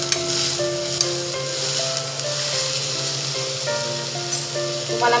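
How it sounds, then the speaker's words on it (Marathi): Curry leaves, tomato and coriander sautéing in a pan, a steady close sizzle with the scrape of stirring. "कढीपत्ता, टॅमॅटो आणि कोथिंबीर. ते पण आपण थोडा वेळ परतून घेऊ"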